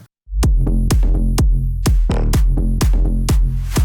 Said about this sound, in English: I added some claps, some reverse claps